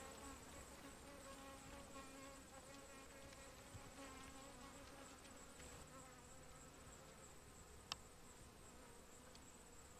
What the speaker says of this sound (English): This particular swarm is really close to the ground right now